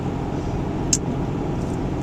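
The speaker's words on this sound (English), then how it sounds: "here comes a car with snow on it" A snow-covered car passes on a rural winter highway, a steady broadband road rumble that swells gently as it goes by, with a brief high click partway through and no voices.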